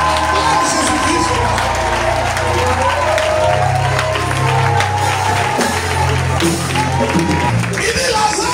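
A church congregation applauds and cheers for Jesus, sustained clapping and crowd noise under loud amplified preaching, with musical tones running underneath.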